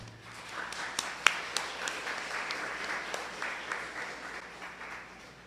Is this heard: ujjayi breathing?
no